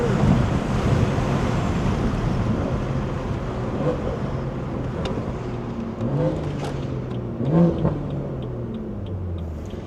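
A stage 2+ tuned BMW 340i drives along with a steady low engine drone and wind and road noise throughout, the exhaust swelling slightly near the end.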